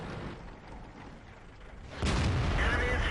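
A tank cannon firing in World of Tanks, heard during a T32 match. After a quieter stretch of background rumble, a heavy boom lands midway and rolls into a sustained, loud roar that fills the rest of the moment.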